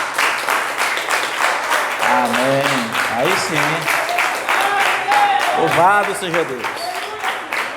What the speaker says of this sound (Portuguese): As palmas para Jesus.